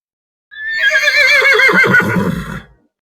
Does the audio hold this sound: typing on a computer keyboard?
no